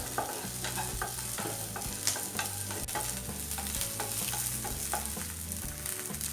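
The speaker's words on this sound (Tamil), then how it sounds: "வெங்காயம் நல்லா வதங்கிடுச்சு." Onions sizzle and fry steadily in a pan with curry leaves, with occasional stirring scrapes, continuous and fairly close, with no talking.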